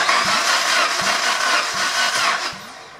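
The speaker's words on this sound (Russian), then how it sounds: "Замер компрессии, первый цилиндр." The 2.4-litre Honda K24A3 engine of a 2006 Honda Accord VII cranks over for a compression test, the starter whirring with a steady thump roughly every half second over about three seconds.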